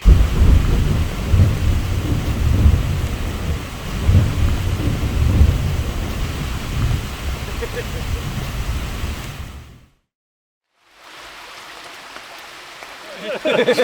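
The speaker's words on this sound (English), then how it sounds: "It is thundering all around us here" Loud rolling thunder with steady rain around a backpacking trail in Kentucky's Red River Gorge, rumbling continuously before a sudden brief silence, then fainter rain and rumble resume.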